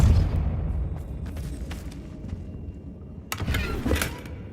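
A Depulso spell is cast in the Hogwarts Legacy video game, giving a low rumbling blast with a burst of whooshing impact near the end over steady game ambience.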